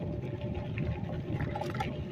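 Rushing river water runs as a steady broadband wash, close and continuous, with faint splashy trickles on top during a bike ride.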